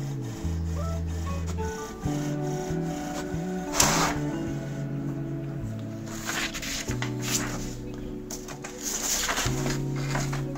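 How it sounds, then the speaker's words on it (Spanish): An HP Smart Tank Wireless 415 inkjet printer prints its first alignment page: steady mechanical whirring with shifting motor tones and clicks as the print head moves, continuous and close throughout, no talking. "aquí estamos imprimiendo por primera vez con la impresora HP Tank Wireless 415 la página de alineación"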